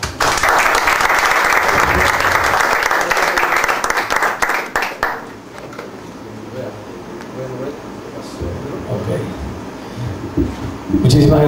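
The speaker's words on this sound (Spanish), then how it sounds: "Vamos a recibirle con un aplauso." Audience applause at a cultural rights panel in an arts house, dense and loud clapping for about five seconds that thins into scattered claps and room murmur, with a brief swell again at the end.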